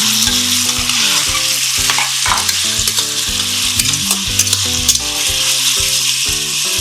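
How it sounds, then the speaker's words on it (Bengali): Onion fries in hot oil in a pan, giving a loud, steady sizzle with stirring scrapes under background music, no voices. "প্রথমে দিয়ে দিলাম পেঁয়াজটা ভাজা হবে"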